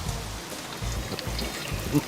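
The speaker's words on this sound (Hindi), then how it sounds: "यहाँ इतनी बरसात हो रही है" Heavy rain falls steadily, a dense continuous wash of drops pattering on surfaces, close and fairly loud throughout.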